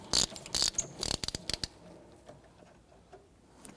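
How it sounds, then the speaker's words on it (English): Hand ratchet loosening the 12mm bolt on the battery hold-down clamp of a 2011-2015 Kia Sorento, a burst of quick close clicking strokes in the first second and a half, then faint scattered clicks. "or you can use your ratchet like I'm doing."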